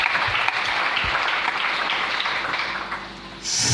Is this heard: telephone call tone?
no